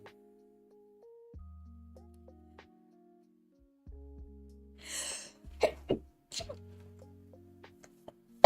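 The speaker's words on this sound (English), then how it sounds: "I'm gonna sneeze again." A single sharp sneeze bursts out during a cozy night of crocheting, followed by a few small clicks and sniffs, set over quiet low background tones.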